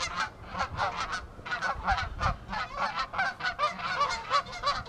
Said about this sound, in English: you can hear the distress of the geese as they go back and witness what's happened